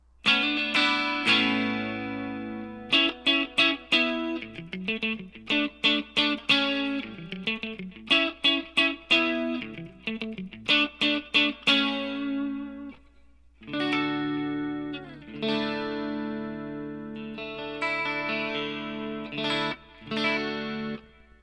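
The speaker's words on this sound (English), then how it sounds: "adding the delay and the reverb." A bright 80s-style synth plays rhythmic stabs and chords, each note trailing off through echoing delay and spacious reverb, with no voices.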